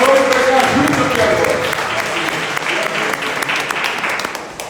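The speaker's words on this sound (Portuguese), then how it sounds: "você adora a igreja, é o melhor louvor de aplauso a ele." Church congregation applauding during a worship service, dense clapping that is loud at first and then settles into a steady patter, with a voice and some musical tones briefly heard near the start.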